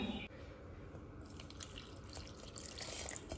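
Water is poured into a pan while a Goan wild mushroom tonak cooks, giving a soft, close trickling splash after a spoonful of garam masala has gone in.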